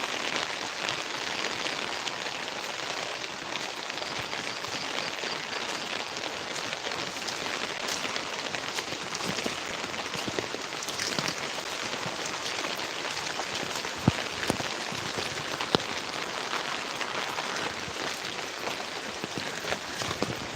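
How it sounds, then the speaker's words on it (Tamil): Heavy, steady rain pours over a plantation of Karpooravalli banana plants, a dense continuous hiss of drops on leaves and ground with a few sharper splats, unbroken throughout. "கண்டினியூஸாக இந்த மாதிரி மழை வந்துட்டே இருக்கிறதுனால"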